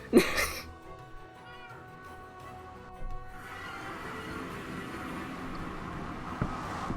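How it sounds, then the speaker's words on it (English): A cat in the Minecraft video game lets out a short, close meow at the very start, followed by quieter game ambience and a low rumble of boat movement, with no voices. "Almost killed the cat."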